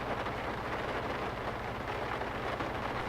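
Steady, even rain in the video game Farming Simulator 19 hisses throughout, a dense wash of noise with no breaks or voices.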